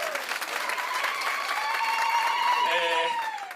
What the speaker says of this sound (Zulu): Animphindeni futhi imshayela ihlombe.